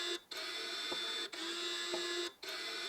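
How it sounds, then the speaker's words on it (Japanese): A test machine twists a Shimano RC902T track cycling shoe under torque, giving a steady mechanical whir with brief pauses between cycles and faint clicks, close and moderately loud. "今回は50ニュートン、5ニュートンメーターのトルクでねじっております。"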